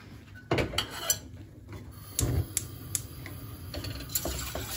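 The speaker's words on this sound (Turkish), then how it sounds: "Sürekli karıştırarak pişireceğim" A spoon stirs a pot of milk, starch, sugar and vanilla sugar on the stove, giving irregular metallic clinks and scrapes against the pot with soft bubbling and hiss between strokes.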